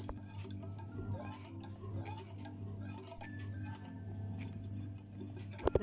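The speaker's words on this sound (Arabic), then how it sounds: "نخلط هذا الكاكاو شويه" Cocoa powder being stirred into cake batter for an orange cake, soft close taps and scrapes of a utensil against a bowl in an irregular rhythm, quiet, no speech.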